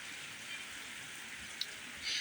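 Very heavy rain pours down in a steady, dense hiss with light wind, evenly loud throughout and swelling slightly at the very end, with no voices.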